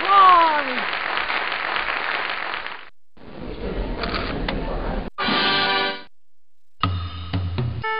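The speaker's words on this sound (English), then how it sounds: "Let's hear some applause." Crowd applause and cheering from the video game Freddi Fish 3 fill the first three seconds, then game segments follow: a noisy burst, tonal chimes, and a stuttering electronic passage, with clear gaps between.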